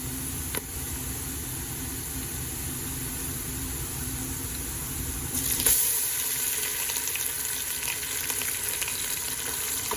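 Onions sizzle with ginger and garlic in a frying pan, a steady close crackling hiss that grows slightly louder and brighter partway through, with no voices.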